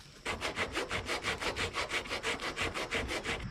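Fine double-aught sandpaper rubs by hand along the edge of a wine barrel in quick, even back-and-forth strokes, about six per second. The rasping is close and steady, with no talk.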